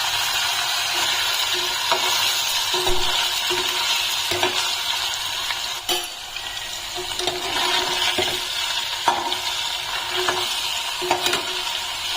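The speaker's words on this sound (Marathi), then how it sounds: "मी तेलामध्ये पनीर तळून घेते" Paneer frying in hot oil gives a steady close sizzle with occasional clinks and stirring knocks from a utensil, continuous throughout without speech.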